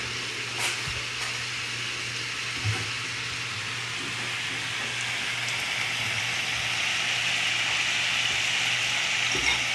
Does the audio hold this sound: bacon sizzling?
yes